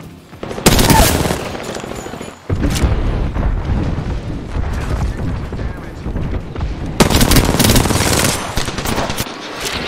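In the Apex Legends video game, an airstrike bombardment hits in heavy bursts of rapid explosions and gunfire, loud and close, with a short lull partway through before the blasts resume, under occasional player talk.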